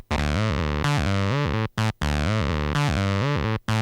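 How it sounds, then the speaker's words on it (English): Behringer TD-3 bass synthesizer switched between square and triangle waveforms, a loud buzzy repeating arpeggiated bassline with short gated notes and brief gaps, played alone with no talking. "We have that set to a square wave and set to a triangle wave."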